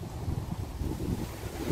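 Heavy sea waves pound the beach at Hat EOD, Sattahip, heard from inside a tent at night: a constant, roaring low rumble mixed with gusting wind buffeting the microphone, with no voices.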